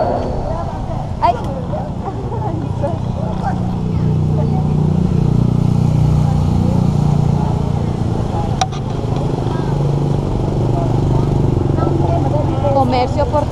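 Busy street in Hanoi, Vietnam, crowded with motorcycles, engines rumbling and revving nearby, people talking over the traffic noise throughout.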